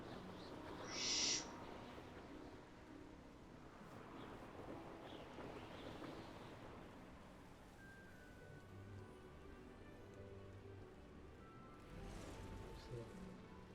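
Bird calls in the game Hogwarts Legacy, heard as a brief hooting owl cry near the start over a soft steady outdoor wind ambience, followed by faint distant calls later.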